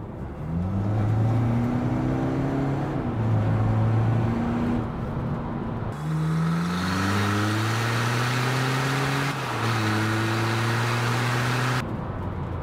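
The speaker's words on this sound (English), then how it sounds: "it drops right into the rev range where you want it, straight on boost." A VW Caddy mk5 van with a turbo upgrade and DSG gearbox pulling hard from inside the cabin, its engine note rising steadily through each gear, with quick pauses at the shifts, heard alone.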